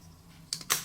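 Two short, crisp clicks from a handheld fidget toy pushed back and forth, close up and fairly quiet against a soft background hush, the second click a little louder than the first, with no talking.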